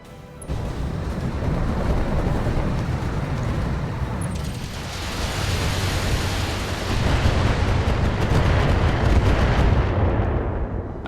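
Missile salvos and heavy explosions from the BattleTech game rumble without pause, a dense, loud barrage of booms and blasts that swells even heavier in the second half before tapering slightly at the end.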